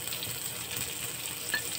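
Onions sizzle as they fry in a pan for a Bicol Express dish, a soft, steady crackling hiss heard close by with no talk over it.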